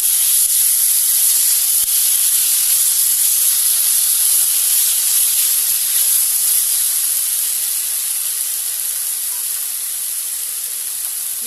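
Mutton mince and ginger garlic paste sizzle loudly in hot oil, a dense, steady, bright hiss that holds without a break and eases slightly toward the end.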